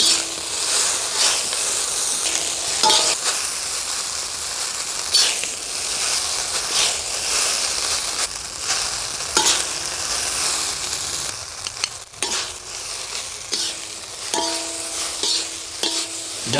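Noodles and vegetables being stir-fried together, loud continuous sizzling with rhythmic scraping and tossing strokes close by, light music underneath.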